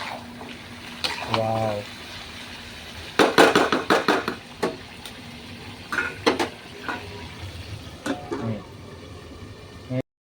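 Chicken fries in a pan with a steady low sizzle, punctuated by clattering bursts of a utensil scraping and stirring against the cookware, with a brief voice early on.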